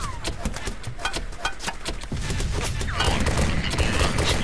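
Rapid gunfire in a realistic war video game, a dense stream of sharp cracking shots that grows heavier and more rumbling partway through, loud and close with no clear talk over it.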